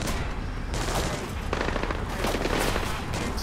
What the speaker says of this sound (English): We're hearing a small arms fire in the terminal, Sam.